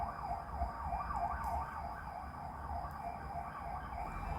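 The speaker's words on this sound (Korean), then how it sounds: "길도 막히는데 오늘따라 별로 구급차 소리가 많이 들리네요." A distant ambulance siren wails up and down continuously beneath steady, congested traffic rumble, faint but clear throughout.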